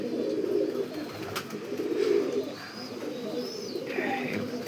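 Pigeons at a fancy and racing pigeon farm coo in low, repeated throaty murmurs, fairly close, with a few higher chirps and short calls from other birds mixed in.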